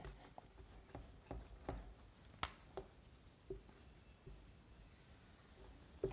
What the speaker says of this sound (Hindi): एक सेकंड इसको सही से लिख देता हूँ।